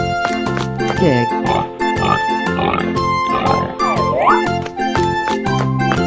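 A pig oinks in a 3D animal slide game. The grunts are loud and come in short repeated bursts over steady game music.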